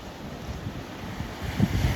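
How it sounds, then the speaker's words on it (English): Sea waves break against coastal rocks at Taroko National Park in Taiwan. The surf is a steady broadband wash, mixed with wind noise on the microphone, and it swells louder toward the end. "the waves are really crashing on these rocks out over here"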